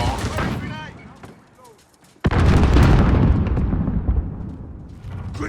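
A grenade detonates in the video game Modern Warfare, a sudden loud blast that cuts in after a quieter stretch and rolls on in a long, booming rumble amid distant gunfire.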